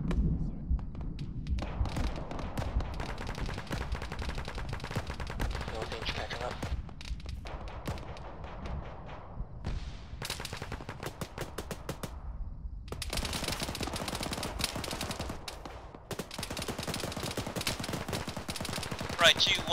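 Dense gunfire in the military shooter game Arma during a ShackTac valley assault: rapid automatic bursts and single shots crackle almost continuously, loud and close, with heavier thumps mixed in and radio-style voices talking over the firefight.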